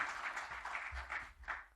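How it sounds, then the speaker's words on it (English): An audience applauds steadily at a boxing press conference, a dense wash of many hands clapping at moderate distance, with no voices on top. "Let's give them both a round of applause, everybody."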